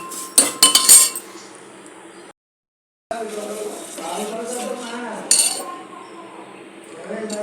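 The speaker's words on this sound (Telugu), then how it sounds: "సేమియాలు కూడా దోరగా వేయించుకోవాలండి." Vermicelli roasting in a pan for semiya payasam gives scattered metallic clinks and scraping of a spatula against the pan, close and fairly loud, with a short silent gap and a quieter sizzling bed beneath.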